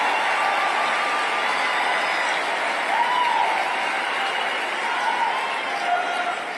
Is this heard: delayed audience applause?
yes